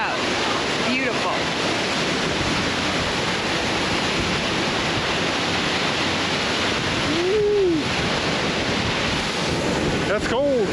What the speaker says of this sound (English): We made it to the falls.